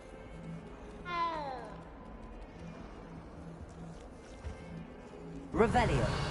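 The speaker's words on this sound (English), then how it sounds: "I must pet all the kitties." A cat meows in the Hogwarts Legacy video game, one clear rising-falling call near the start amid quiet ambient game sound and a brief louder burst at the end.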